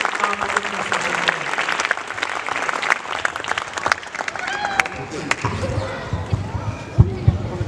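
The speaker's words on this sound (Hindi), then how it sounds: "उनके लिए भी आप तालियों की गड़गड़ाहट से आप मदद कर सकते हैं।" An audience at an International Day of Persons with Disabilities program claps in a lively, uneven burst, with sharp individual claps standing out and voices talking over it.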